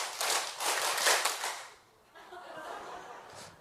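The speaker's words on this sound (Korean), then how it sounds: "박수 5번 한번 치겠습니다." A lecture audience at a Bible talk claps together in unison, a short burst of about five sharp, crisp claps, followed by quieter murmuring and a voice.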